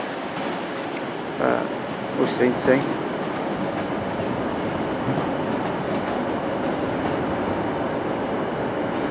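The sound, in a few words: Pendolino train at Glasgow Central station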